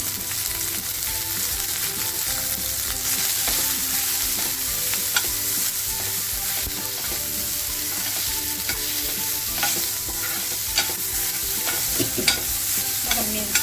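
Chillies fry in hot oil for a dhaba-style egg tikka masala with a loud, continuous crackling sizzle, broken by occasional utensil clinks and stirring scrapes, with no voices.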